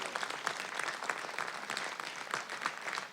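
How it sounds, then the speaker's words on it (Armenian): A large audience at a circus event claps in steady, dense applause, many hands blending into an even rattle that holds at moderate loudness throughout. "այո կարելի է ծափահարել"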